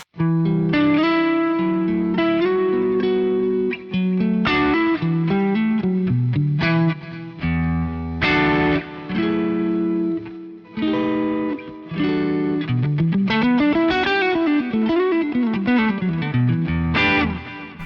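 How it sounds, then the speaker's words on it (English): An electric guitar through a Fractal FM3 plays a singing lead line with sustained notes and bends, moderately gritty from blues overdrive and compressed, with a touch of delay and reverb. "I've got this mid-gain lead which is building on the clean preset but adding a blues OD and the compressor"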